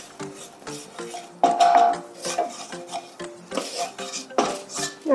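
A utensil stirs flour into melted butter in a pan for an Alfredo sauce, making repeated close scraping and rasping strokes against the metal in a steady back-and-forth rhythm with short pauses, no voices.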